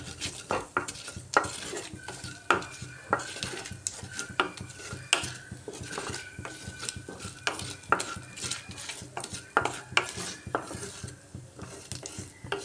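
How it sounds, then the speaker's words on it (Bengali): Busy kitchen clatter as whole spices fry in a pan, a spoon scraping and stirring, metallic clinks recurring throughout over a low background hum. "ফোড়নটাকে একটু ভালো করে ভেজে নিচ্ছি"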